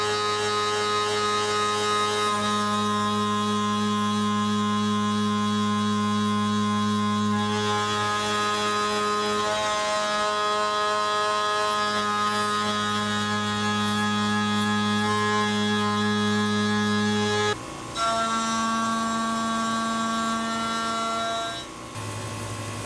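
Tormach 1100MX CNC mill running a 3D adaptive clear with a shear hog cutter, then facing a part; a steady loud tonal whine with stacked harmonics holds throughout, shifting pitch sharply near the end as the cut changes.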